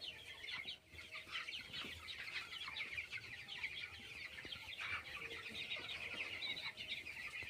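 Chickens on a poultry farm cluck steadily throughout, several birds overlapping in a continuous busy chorus with occasional wing flaps, moderately near.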